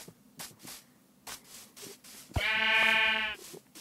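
A single sheep in the Minecraft video game gives a loud, buzzy bleat of about one second, following a run of faint, scattered clicks and taps.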